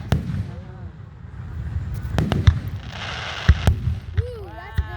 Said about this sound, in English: This is the way fireworks should always be done.